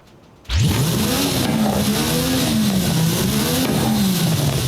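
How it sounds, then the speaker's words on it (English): A Mercedes-AMG One engine in Forza Horizon 5, without upgrade, roars to life and revs loudly, pitch rising and falling in steady waves, close and continuous with no talking. "You'll be hearing the engine now without the upgrade."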